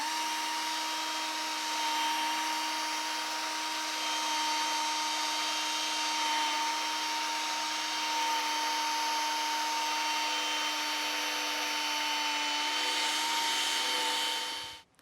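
A cordless drill with a polishing pad, running on a NEW Vanon battery, buffs a paint scratch out of a white car bumper near a body line. It makes a steady, close, continuous whine and hiss for about fifteen seconds, then cuts off abruptly at the end.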